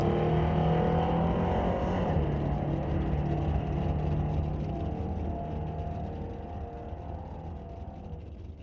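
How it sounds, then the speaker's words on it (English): Drag race car launching with heavy wheel spin off the line at Mission Raceway Park during an ET Series race, a loud sustained engine roar and tire noise that fades slightly as the car pulls away. "lots of wheel spin off the line for John"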